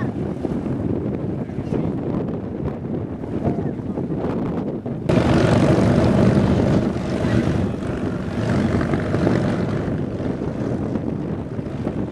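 A steady droning roar of a B-29 bomber's propeller engines with wind buffeting, growing louder and fuller halfway through as the aircraft passes close overhead.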